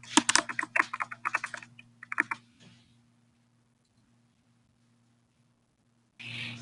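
Quick typing on a computer keyboard, a close burst of crisp key clicks for about two and a half seconds, then near silence over a faint hum before a brief noise at the end.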